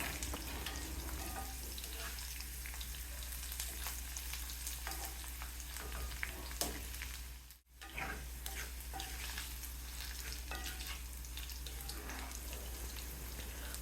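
Garlic frying in a pan for a Tamil kulambu, a steady close sizzle with scattered crackles running throughout, briefly dipping once midway before resuming, with no talking.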